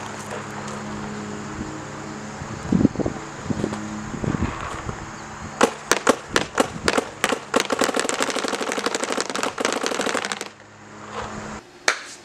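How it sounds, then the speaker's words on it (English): Planet Eclipse CS2 tournament paintball marker with the board set at 689, firing old Midnight paint: a few scattered shots, then a rapid string of sharp cracks in fast bursts that ends abruptly, with no talking. "Shooting the Planet Eclipse CS2,"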